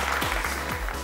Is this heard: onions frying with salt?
no